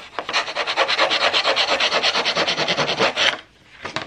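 Paper edge for a baby scrapbook album being distressed with a tool, a loud rapid rasping scrape repeated in steady strokes for about three seconds, then a pause and a brief final scrape.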